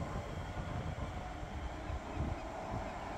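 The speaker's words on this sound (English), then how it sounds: "And my train is just arriving as we speak." A train arriving at Edinburgh Park station gives a steady, fairly quiet rumble and rolling noise, broad and continuous with no voices over it.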